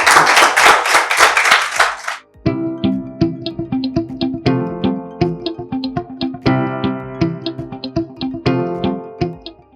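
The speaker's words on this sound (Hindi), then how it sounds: "आपकी भरपूर तालियों में दावत सुखन दूंगा जनाब प्रोफेसर डॉक्टर अनिल सैमुअल को।" An audience at a mushaira poetry gathering claps, beginning with a loud burst of applause. Lighter rhythmic clapping follows with a musical tone for the rest of the clip.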